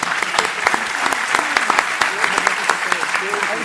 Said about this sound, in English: Round of applause for our ladies.